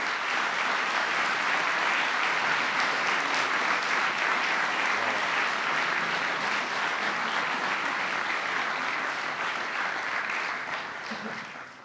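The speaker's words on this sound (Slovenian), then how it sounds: "Zato prosim en aplavz za njih in za njuna dirigenta Metko Pupis in Vida Pupis." An audience at a Bled saxophone festival applauds young music-school musicians and their conductors, a continuous, fairly distant wash of clapping that holds steady and tapers off at the end.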